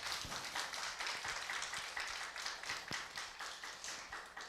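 An audience at a lecture on education and free citizenship gives a professor a long round of applause: dense, steady clapping from many hands, fairly close and continuous, with no talking over it.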